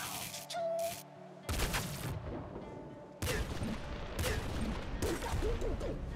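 Heavy minigun firing in the game Nuclear Throne, a loud, dense burst of rapid shots in several sustained stretches separated by brief breaks, with crunchy impacts layered through.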